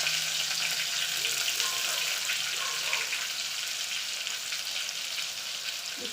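Curry leaves and crushed garlic hit hot oil in a pan, giving a steady, close bright sizzle and crackle that runs evenly throughout with no talking.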